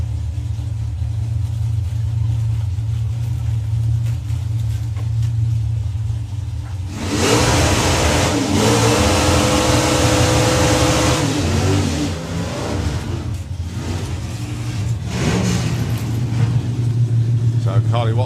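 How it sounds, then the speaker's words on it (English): A drag racing car launches and accelerates hard down the strip, a loud broadband engine roar surging in over steady crowd and commentary noise, sustained for several seconds before easing as talk continues underneath. "Carly Watts coming underneath the tower, one of the Watts Shops cars"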